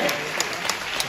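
Crowd applause bursts out at a live crosstalk (xiangsheng) show in a Tianjin theater, honoring a 70-year-old man in the audience; dense, even clapping that fills the brief moment.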